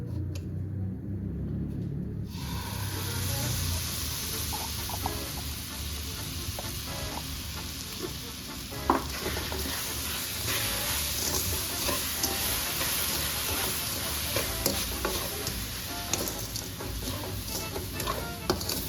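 Vermicelli barfi with dry fruits and condensed milk is stirred in a pan, a continuous close sizzle overlaid with scraping and an occasional knock of the spoon, with no talk.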